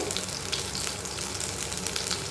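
Small onions frying in oil for a masala base, giving a steady, close sizzle with dense crackling throughout and no voices.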